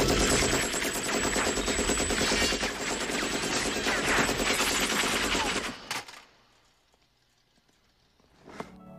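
Rapid gunfire crackles loudly and continuously during shooting practice in First Blood Part II, a dense barrage lasting several seconds before cutting off abruptly to near silence with one faint later crack.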